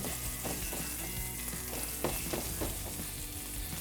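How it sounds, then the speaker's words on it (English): Sweet potato burgers frying in a hot pan, a dense, continuous sizzle with crackling pops and a few soft knocks as they shift, close and without talk. "So now that our pan's good and hot, we can go ahead and take the burgers and just set it in that pan."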